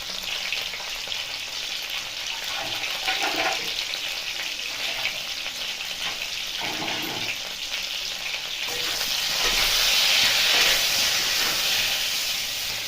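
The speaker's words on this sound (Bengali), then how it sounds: "এবার ফুলকপিটা একটু লাল লাল করে ভেজে নেব" Continuous hissing sizzle of cauliflower frying in oil, growing louder toward the end, with occasional soft stirring and no speech.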